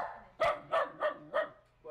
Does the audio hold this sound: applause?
no